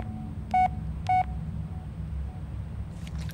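Two short electronic beeps from a phone's voicemail in the video game Blair Witch, clear and evenly spaced over a low hum, with a faint rustle at the end.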